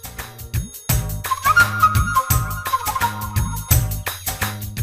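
A phone rings while a call is placed, a repeating musical ringtone melody with rhythmic bass pulses and bright chimes, loud and close with no talking.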